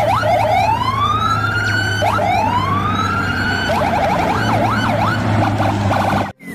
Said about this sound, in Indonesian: Wih, ada mobil polisi lagi.